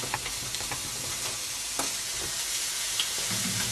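A chilli base cooking in a pan gives off a continuous, moderately loud sizzle, with occasional soft stirring clicks and scrapes close by and no voices.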